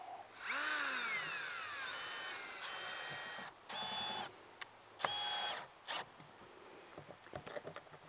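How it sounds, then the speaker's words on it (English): A power drill driving screws whirs in several bursts, pitch rising and falling as it drives, with short pauses and clicks between runs. "my drill won't put the screws in in reverse"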